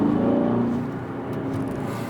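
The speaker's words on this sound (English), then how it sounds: "you can hear how loud this car is" A 2023 Aston Martin DBX 707 SUV accelerates with its exhaust open, giving a loud, steady engine drone heard from inside the cabin that eases slightly partway through, with no talking over it.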